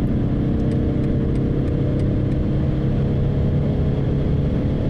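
BMW 840d xDrive cruising at very high speed, its engine droning steadily and loudly from inside the cabin alongside heavy road and wind rumble, with no talk over it.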